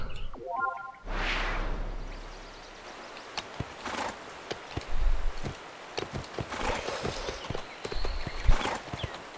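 Horse hooves clip-clopping on a mount in the video game Go Vacation, a steady run of close, sharp clops with scattered louder knocks over a light ambient bed, and no voices over it.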